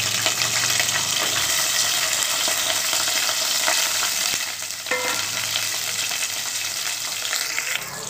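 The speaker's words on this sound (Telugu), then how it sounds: "ఇప్పుడు ఉల్లిపాయలు వేస్తున్నాము." Onions fry in hot oil for a bangda fish curry, a loud, dense crackling sizzle that settles slightly after midway, with occasional stirring clinks.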